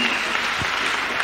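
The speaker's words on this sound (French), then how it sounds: "Acclamez pour Jésus-Christ." A church congregation applauds for Jesus Christ in a dense, continuous burst of clapping that fills the whole brief moment, loud and close.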